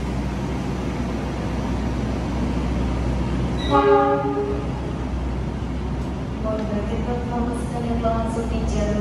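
Argo Lawu passenger train pulling into Yogyakarta station, a steady rumble of the rail yard with a loud horn blast near the middle and a softer one later, over constant station ambience.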